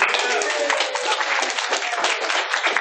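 Audience applause at a fursuiting panel at Rainfurrest 2012, steady dense clapping from a crowd sustained evenly for about three seconds with no breaks.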